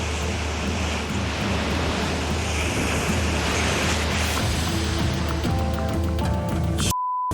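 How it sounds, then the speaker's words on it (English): Ocean surf breaks at Bondi Beach in a dense, continuous roar of crashing waves with wind buffeting the microphone, loud and close throughout before cutting off abruptly at the end. "desperate to avoid another set of waves"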